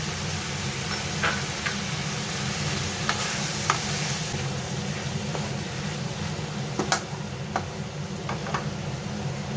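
Cumin powder and two large tomatoes frying in a pan for paneer curry, a dense continuous sizzle with sharp ticks and scrapes of stirring scattered across it.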